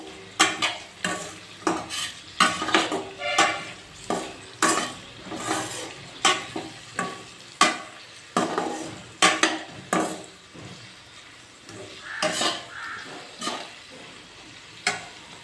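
Garlic cloves sautéing in a pan for Tamil poondu kulambu, with rhythmic scraping stirs and clinks of a spoon against the pan over a soft sizzle, close and steady for the whole stretch with no talking.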